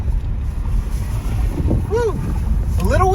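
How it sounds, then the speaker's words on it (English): Heavy wind buffeting a microphone during a drive through downtown Columbus, Ohio, a loud low rumbling roar throughout, with a brief voice exclamation breaking through near the end. "A little windy here."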